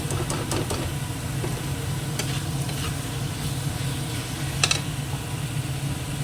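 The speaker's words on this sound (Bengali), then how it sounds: "এবার এটা একটু ভেজে নিই" A garlic and chili paste sizzles steadily in a hot pan while a utensil scrapes and taps against it in occasional strokes.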